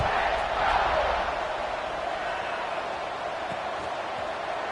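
A college football stadium crowd at an Ole Miss game roars steadily before a kickoff following a touchdown, a dense, sustained wash of cheering that swells slightly early and then holds, filling the whole space.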